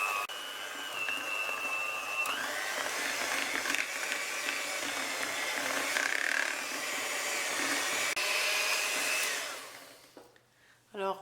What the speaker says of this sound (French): À présent on vient fouetter. Alors on démarre doucement, hein. On démarre doucement et ensuite on accélère.